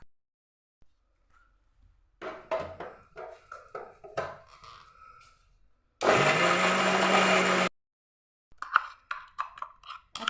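A kitchen blender grinds mung bean dosa batter in one loud, steady burst lasting a couple of seconds, set between quieter handling clatter and knocks before and after.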